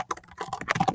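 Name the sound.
typing a message on a computer keyboard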